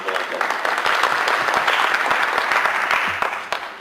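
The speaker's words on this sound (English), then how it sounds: "If we can give a round of applause for Attorney Valente." Audience applause for a panelist at a drug abuse summit, a dense, steady wash of many hands clapping that swells quickly, holds for several seconds, then tapers off at the end.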